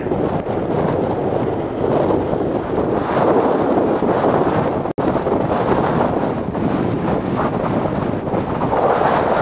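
Strong wind roars and buffets the microphone continuously while cycling on a dirt road, a dense rumbling rush with only a momentary break partway through.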